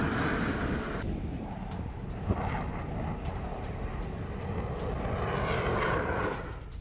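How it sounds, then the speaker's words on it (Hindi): Russian Air Force fighter jets roar at the Dubai air show in a loud, sustained broadband engine rumble that swells and shifts as they pass. "जहां दुबई में रूसी एयरफोर्स के फाइटर जेट गरजे"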